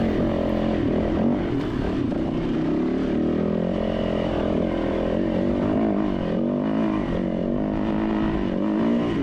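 Dirt bike engine droning steadily up close while riding a rocky hard enduro trail in Jawbone, the throttle surging and easing in continuous waves with no pauses.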